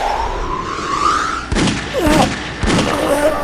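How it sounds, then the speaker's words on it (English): Pistol gunshots fired in a stealth video game against guards, a few sharp loud reports spaced about a second apart over a steady background hum, with voices underneath. "I may need to use this little pistol I brought with me from Ketch's line."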